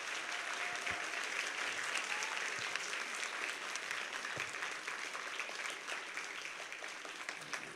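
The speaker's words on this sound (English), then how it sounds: "Give them a big round of applause." A concert audience at a New Year's Day world music and dance show gives sustained applause for the performers, an even, fairly distant wash of clapping lasting several seconds.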